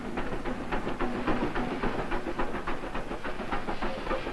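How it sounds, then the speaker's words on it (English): A steam train sits at a station, giving a steady hiss with faint rhythmic clanking and chuffing at moderate distance, with no talk. "I'm taking that train."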